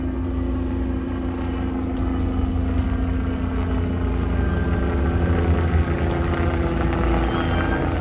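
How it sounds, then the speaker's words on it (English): A helicopter passes overhead, its steady rotor drone and low engine rumble holding constant and fairly loud throughout, with no talking. "Another helicopter."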